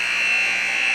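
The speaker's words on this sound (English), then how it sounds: "As the buzzer sounds" End-of-game buzzer at a university ice hockey match, a loud sustained electronic tone that holds steadily for about a second, alone without commentary.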